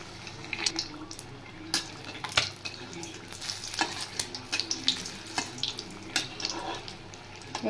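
Eggs coated in cornflour and gram flour batter frying in hot oil, a steady close sizzle with intermittent stirring clinks and scrapes throughout, no talking.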